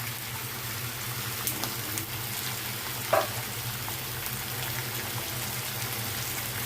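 Ground spice paste with tomatoes and dried chili is poured into a hot pan, giving a steady moderate frying sizzle with a brief clunk midway and no talk.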